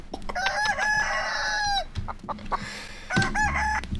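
A chicken in the video game ALTF4 clucks and crows in a sharp, repeated burst, followed by a pause and another loud round of clucking, heard alone and close.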